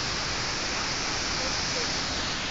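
A waterfall roars in a broad, steady rush of falling water, dense and constant throughout, with faint voices mixed in.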